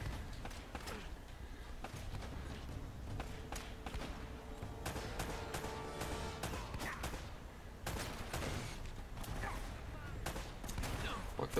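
Pistol gunfire and explosive bursts in the action game Uncharted: Drake's Fortune, repeated sharp shots over dense game noise, loud and busy throughout.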